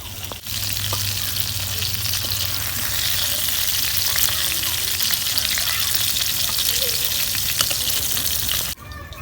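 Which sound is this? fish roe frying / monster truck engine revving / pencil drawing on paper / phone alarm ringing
fish roe frying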